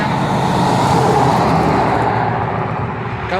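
A line of semi trucks, including a Next Gen Kenworth, drives past on a roadway, giving a loud, steady rumble of engines and tires that fades slightly near the end.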